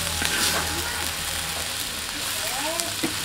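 Home-grown lot mushrooms hit a hot pan for a spicy stir-fry, giving a steady bright sizzle with faint stirring scrapes and a voice speaking quietly underneath.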